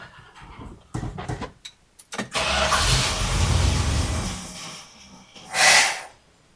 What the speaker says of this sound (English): that backfire thing right there acts like it's over advanced